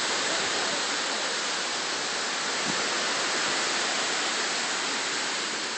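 Hurricane Irene floodwater in 2011 rushes in a loud, steady roar of churning water, unbroken and close, with no voices over it.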